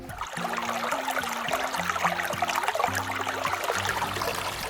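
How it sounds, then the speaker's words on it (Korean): A small stream on a forest trail trickles and babbles continuously at moderate level, with a steady watery hiss and no voices. "안양 방향으로 흐르는 실개천입니다."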